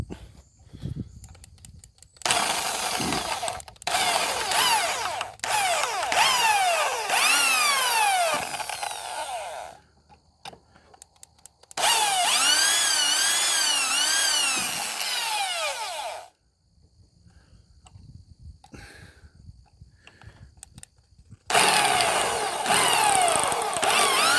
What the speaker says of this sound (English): So I'm just going to actually drill those heads out.